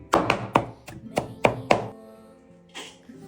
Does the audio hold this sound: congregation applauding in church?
no